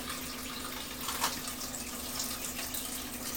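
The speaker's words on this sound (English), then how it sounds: "Okay, wash the eggs." Water runs steadily from a tap while eggs gathered from ducks are washed in a sink, a constant hissing flow close by with a faint background hum.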